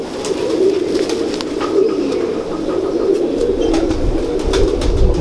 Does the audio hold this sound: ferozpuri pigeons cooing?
yes